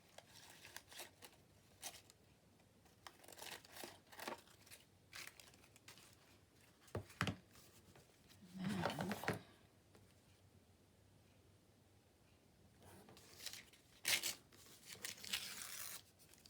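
Scissors cut around paper notes from an old book, making close snips and papery rustles in uneven bursts, with longer crinkly passages and quiet gaps between them.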